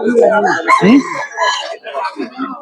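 Chickens and ducks crowing and clucking nearby at a weekly village market in the hills, a rooster's call rising over busy voices and general market bustle.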